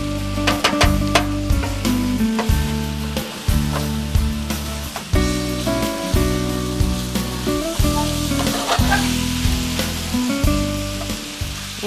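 Beef sautés in a hot pan with a continuous, fairly loud sizzle broken by repeated stirring scrapes, over a steady rhythmic low droning tone.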